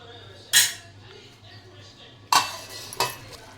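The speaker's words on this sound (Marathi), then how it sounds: "आता मी ह्याच्यावर झाकण ठेवून पाच मिनटं त्याला कड येऊ देणार" Metal kitchenware clinks as a lid is set on a pot of chole bhaji, three sharp clattering hits spaced apart over a low steady hum, close and fairly loud.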